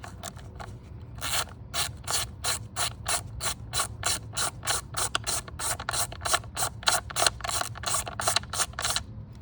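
A ratchet turns a size 8 E-Torx captured bolt on a BMW X3 G01 ignition coil during spark plug replacement, clicking in quick rhythmic bursts, close and loud with no talking.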